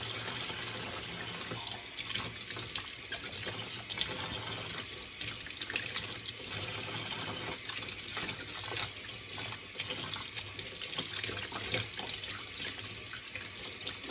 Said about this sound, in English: I'm going to wash my scallions. So I need the whole bunch. I just wash them.